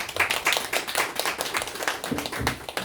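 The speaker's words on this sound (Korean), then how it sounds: "우리 하나님께 영광의 박수 한번 크게 올려드립니다." Audience clapping at a church fellowship's annual general meeting and year-end gathering, dense and sustained applause throughout with a few louder claps standing out.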